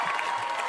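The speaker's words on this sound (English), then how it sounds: "The clapping was going to loop." Applause sound effect played on a talk show, a brief burst of steady, close clapping lasting under a second.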